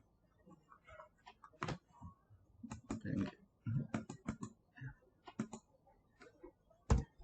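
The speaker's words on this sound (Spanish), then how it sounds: "Hoy estoy medio con el teclado, pido perdón." A computer keyboard being typed on in irregular bursts of sharp clicks and clacks, close and fairly loud, with short pauses between keystrokes and no speech.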